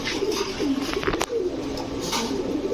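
Pakistani Babra pigeons coo softly and repeatedly at close range, their low throaty rolls overlapping with a brief flutter or tap in the middle.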